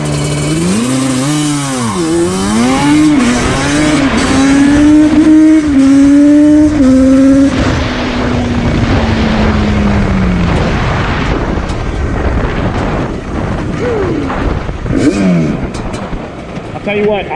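A Yamaha Banshee ATV with a two-stroke engine accelerating hard from 0 to 60 mph, its loud, close buzzing exhaust rising in pitch through repeated gear-shift dips, a person speaking over it near the end.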